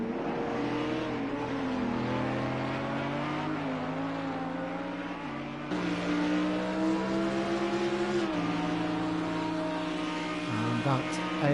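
GT3 race cars, an AMG and a Lamborghini, roar continuously through a racing video game at Le Mans Bugatti circuit, engine pitch rising and dropping through gear changes, with a commentator's voice talking over the steady drone.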